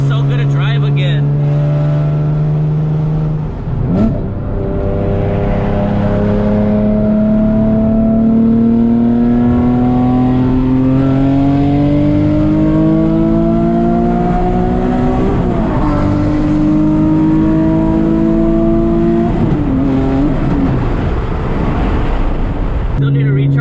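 Nissan 370Z driving on the road, its engine a steady drone that climbs in pitch, drops back at two gear changes and climbs again, loud and continuous throughout.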